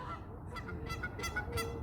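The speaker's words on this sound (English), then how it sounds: "Those are ducks." Waterfowl honk repeatedly from the water at a bird sanctuary in Calgary, a quick series of faint, nasal calls heard at a distance over low background noise.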